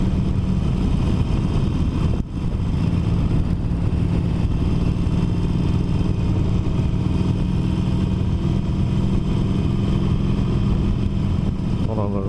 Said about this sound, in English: I hear a lot of ticking. I don't know if it's the valves or just the way that the engine is.